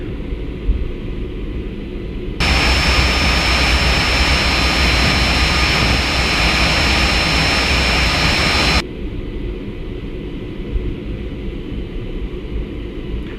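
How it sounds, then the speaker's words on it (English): A Citation CJ1 business jet taxiing to its hangar after landing, its engines whining and roaring loudly and steadily from inside the cockpit, rising in power for several seconds before easing back to a lower hum. "Taxiing is pretty easy back in, just straight ahead to our hangar."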